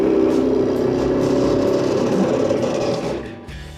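Forstner bit boring countersink holes into a wood block for a newel post installation, a steady loud motor whine with grinding cut, continuous for several seconds before tapering off near the end.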